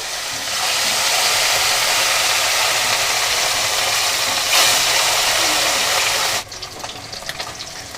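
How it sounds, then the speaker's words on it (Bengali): Salted, turmeric-coated snakehead fish frying in very hot oil, a loud steady sizzle and crackle that holds for about six seconds, then drops sharply to a quieter bubbling. "এবার লবণ হলুদ মাখানো মাছগুলো আমি একটু ভেজে নেব"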